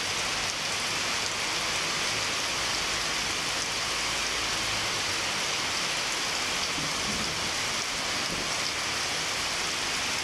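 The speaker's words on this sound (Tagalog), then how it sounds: "Ayan, naririnig nyo pa yung kulog" Steady rain from a low pressure area pours continuously, a dense even hiss of drops on surfaces with no voices; thunder is not clearly distinct.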